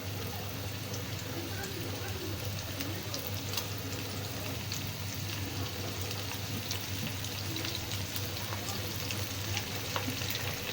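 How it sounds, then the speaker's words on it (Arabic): Chicken pieces frying in very hot oil, a dense, continuous sizzle that holds steady throughout with no one talking. "احنا جبنا زيت واتقدح جامد، وهنبدا بقى نحط الفراخ فيه"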